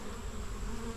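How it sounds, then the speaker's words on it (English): Honey bees buzzing steadily around the hive entrances in a beekeeping yard, a dense, continuous drone close to the listener with no talking. "check out some busy bees"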